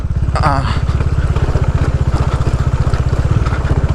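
A Dominar motorcycle rides off-road along a forest road, its engine a steady, close, pulsing drone that runs throughout, with a brief voice over it near the start.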